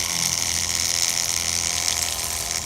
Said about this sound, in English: That is a water pump.